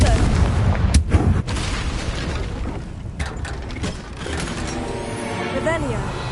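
Confringo blasting curse going off in Hogwarts Legacy: a sharp explosive burst near the start, then rumbling and mechanical clatter fading into softer game sounds.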